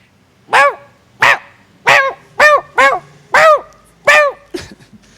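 A voice imitates a happy dog with about seven short, bright barks in an even rhythm, loud and close, trailing off into a softer final yip.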